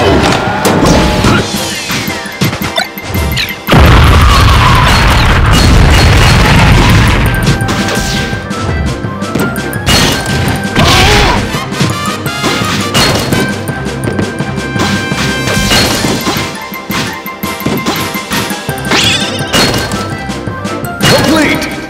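Video game crashes and smashing bursts from a Break the Targets stage in Project+, a Super Smash Bros mod, come in loud repeated hits over game music and effects throughout.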